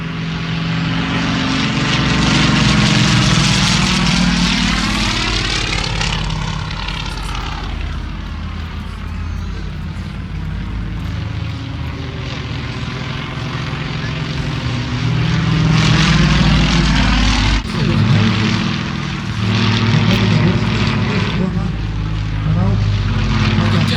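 A propeller airplane engine drones loudly and steadily at an air show, its pitch sweeping as the aircraft passes, rising again near the end with a continuous close roar.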